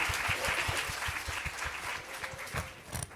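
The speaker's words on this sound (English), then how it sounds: "Let's give her a round of applause because the teachers do the work" Audience applauding teacher Tina McCormick at a Newark literacy symposium, a steady dense round of clapping with sharp individual claps standing out, sustained for the whole stretch without talk.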